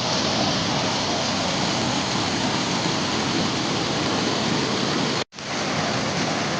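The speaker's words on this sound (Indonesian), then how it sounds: "kita di atas air terjun ini" Roaring rush of the Lengan waterfall in Maros, heard from above the falls as a steady, loud, unbroken wash of falling water with one brief dropout near the end.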